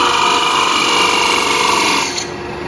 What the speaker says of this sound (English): Once more, little bevel rubbing cuts from both sides.